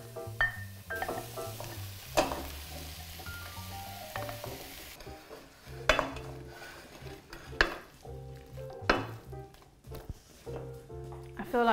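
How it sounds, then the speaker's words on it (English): Vegetables stirred into a pot of vegan ital curry, with a steady sizzle under scraping and clattering spoon strokes against the pot and a few sharper knocks, at moderate closeness. "we're gonna add in all our lovely vegetables and we're gonna mix them in with the curry"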